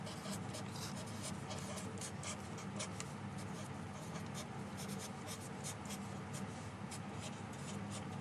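A pen scratches across paper while a maths problem is worked out, a faint continuous scribbling close by with no voices.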